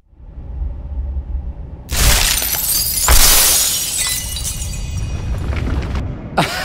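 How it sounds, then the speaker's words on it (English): A temple collapses in the video game Memoria: The Dark Eye, with loud crashing, glassy shattering bursts hitting around two seconds and again just after three, followed by a long rumbling debris wash and a final sharp crack. "You've destroyed the greatest temple the world has ever seen."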